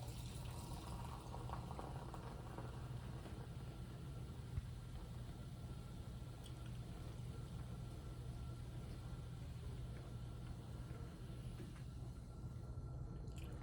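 Coca-Cola poured into a blue cup, a continuous close fizzing and bubbling rush that holds steady for over thirteen seconds with no talking.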